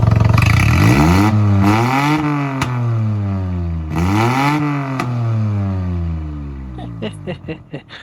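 A 1993 Geo Metro's three-cylinder engine, with a five-speed, is revved twice, rising and falling sharply with a rough idle in between, close up, ending in a few clattering knocks.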